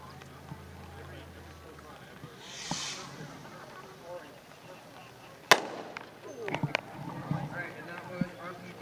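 RPG Rocket consumer firework from a Black Cat demo: a soft hiss of launch, then a sharp bang followed by a scatter of crackling pops and smaller reports, fairly loud against outdoor background.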